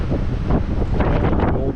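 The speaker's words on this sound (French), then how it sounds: "Il y a beaucoup de vent." Strong wind buffets the microphone at Tower Hill Reserve, a steady, loud roar with gusty swells and no talk.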